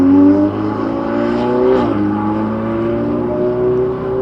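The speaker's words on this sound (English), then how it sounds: "that 488 is loud" A loud Ferrari 488 race car engine drones with a high, sustained note that shifts pitch as it sweeps past, continuing strong throughout.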